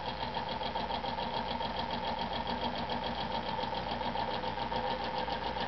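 A homemade electromagnet motor built to the Avery patent design, with a small crankshaft and a magnet wound in 24 gauge wire, runs at a steady rhythmic clatter, close and even throughout, with no talk.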